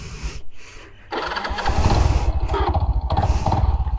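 A Runner Bullet 100 motorcycle engine cranks and catches, then settles into a loud, close, steady running putter with a rhythmic pulse and no talk over it.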